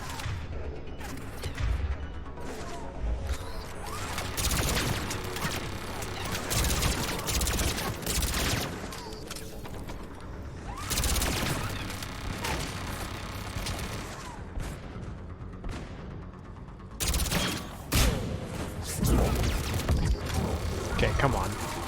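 Enemy turret fire in a tactical shooter match, dense bursts of rapid gunfire and crashing impacts running almost continuously, loud and close, with a brief lull before a fresh volley; a voice talks over parts of it.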